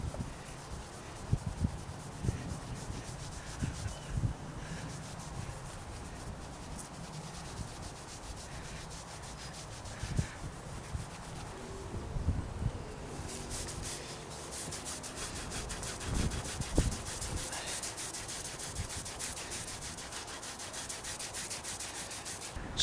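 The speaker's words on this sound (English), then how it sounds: "just use some T-cut on this section and then compare it to the other side" T-cut polish is rubbed by hand onto rusty bare metal on an old bicycle. It makes a steady, close scrubbing and rubbing sound with rhythmic strokes that continue without talk.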